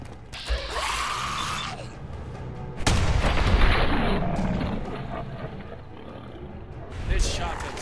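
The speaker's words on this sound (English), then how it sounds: "This shotgun setup has such impact." Shotgun blasts in the Fallout 4 video game, heavy booming reports with mechanical pump and reload clatter, a loud burst near three seconds amid game action and faint voices.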